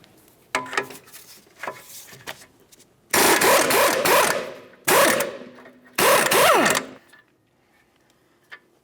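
A 21mm wrench working the outer tie rod nut on a 2009-2019 Ford Flex: a few light clicks, then three loud, close, buzzing mechanical bursts of about a second each, separated by short pauses.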